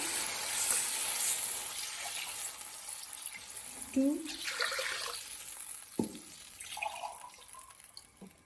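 Water from a glass is poured into a pot of plain rice being cooked Arabian style, a few short splashing pours under a voice speaking briefly in a home kitchen.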